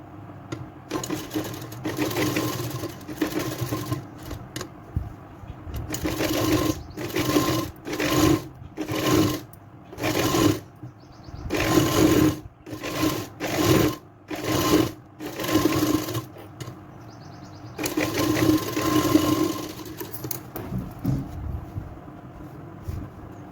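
Sewing machine stitching lace onto the back neck of a blouse, running in repeated short bursts of rapid whirring separated by brief pauses, close and fairly loud, with no voices.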